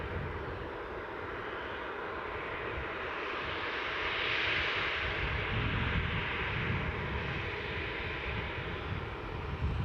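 Airliner registered G-JZHM departing Newcastle Airport bound for Tenerife, a steady broad jet roar at moderate distance that swells slightly midway and holds, with some wind rumble underneath.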